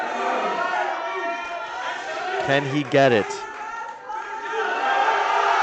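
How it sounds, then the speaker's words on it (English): A large crowd roars and chatters steadily at a powerlifting world record total attempt, a dense wall of cheering voices throughout, with a commentator talking over it and a brief shout standing out midway. "You can see a big crowd here cheering him on, asking for more noise from the crowd."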